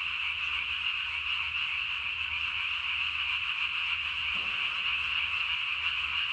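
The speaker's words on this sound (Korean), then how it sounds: "상당히 많은 개구리들이 지금 뭐 합창을 하고 있습니다." Japanese tree frogs calling in a dense nighttime chorus during spawning season, a steady, continuous high-pitched trilling croak from many frogs at once, loud and unbroken with no talking.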